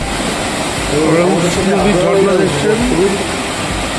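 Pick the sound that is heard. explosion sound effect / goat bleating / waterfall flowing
waterfall flowing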